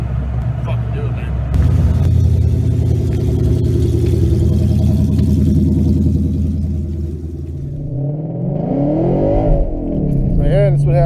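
A 3.7-liter Ford Mustang set up for drag racing accelerates at full throttle up to 50 mph, its mid-pitched engine droning loud and steady, then rising in a sweeping rev near the end, heard from inside the car.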